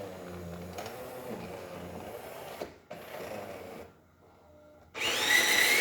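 Jura Ena 4 coffee machine, just serviced after a full tune-up, grinding coffee beans with a steady mechanical whir for several seconds. It pauses, then a loud hiss bursts in.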